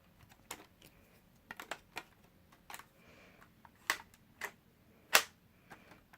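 Lego toy gun magazine being worked in a reload action, a scatter of small plastic clicks and snaps close up, quiet and irregular, with one sharper crack near the end.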